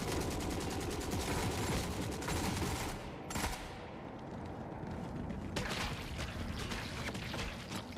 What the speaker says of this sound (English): Oh, we're getting shot in the ass.